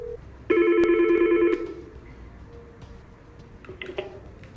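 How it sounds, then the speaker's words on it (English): A desk phone on a Yeastar S Series VoIP PBX extension rings with a single loud electronic ring burst lasting about a second, then fades into quiet room tone with faint clicks. "8002 rings. Pick up to answer the call."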